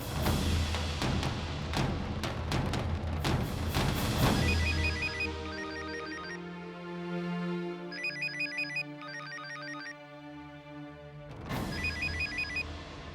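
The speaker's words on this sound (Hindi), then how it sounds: "फोन क्यों नहीं उठा रही है" A telephone rings unanswered, its electronic ringtone repeating in short warbling bursts after a loud opening crash of music, with pauses between rings and no voices.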